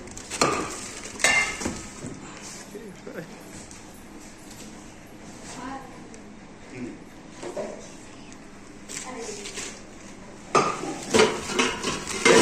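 A Limera pressure cooker and a cookware set of metal pots and containers being handled, with intermittent clanks and clinks of metal close by, mixed with people talking throughout.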